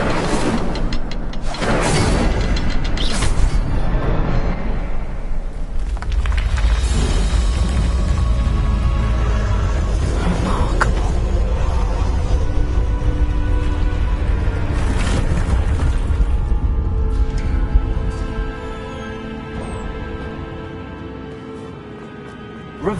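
Incendio fire spell blast in Hogwarts Legacy, a loud rumbling burst of fiery roar and crackle that sustains for many seconds before fading out near the end.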